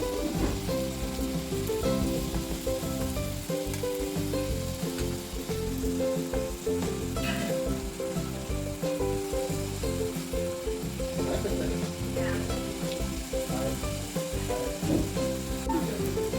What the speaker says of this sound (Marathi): हे अशा तांबूस तळून घ्यायच्या, बदामी रंगावर तळून घ्यायच्या